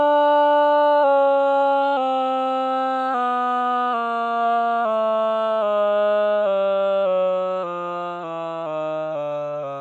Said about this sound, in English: If I auto-tune it more aggressively, eliminating these slides, it sounds like this.